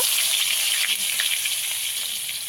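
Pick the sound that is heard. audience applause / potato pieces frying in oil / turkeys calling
potato pieces frying in oil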